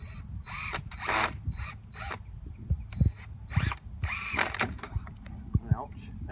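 Outdoors, a power drill whirs in repeated short bursts while driving screws to mount a bait hive on a tree trunk, with people talking in between.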